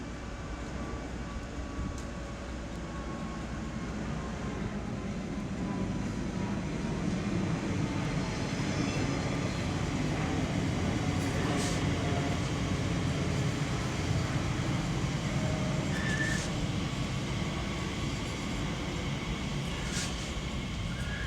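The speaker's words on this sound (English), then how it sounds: "Arriving in now is the TfL rail service to Paddington." A TfL Rail train bound for Paddington pulls into West Ealing station on the Great Western Main Line, a steady low rumble and broadband roar holding at moderate level throughout, with faint high squeals near the end.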